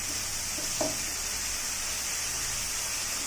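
Eggplant curry (begun jhal) with chopped green chillies sizzles in a pan on the stove, a steady close hiss of frying throughout with one brief clink near the start.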